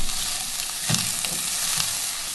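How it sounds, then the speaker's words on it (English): Onions and mushrooms stir-fry in hot oil with a steady, close sizzle, broken by occasional scraping stirs. "We're going to do a quick stir fry. I'm going to add some onions. And we're going to add in our mushrooms."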